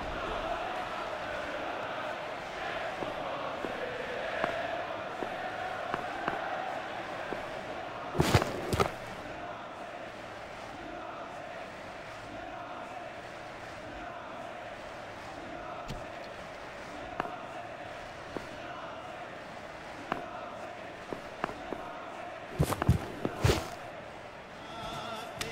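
A large cricket crowd at an India versus Pakistan Test match applauds a century, producing a sustained roar of cheering with scattered louder bursts and thumps.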